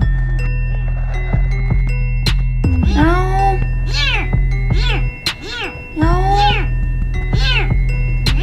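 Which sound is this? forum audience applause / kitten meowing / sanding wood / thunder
kitten meowing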